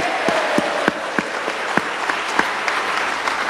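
Lively audience applause at a sales seminar, a dense and steady wash of clapping with a few sharp individual claps standing out, lasting the whole stretch.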